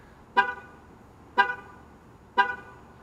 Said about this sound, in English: It'll flash the lights and honk the horn 3 times.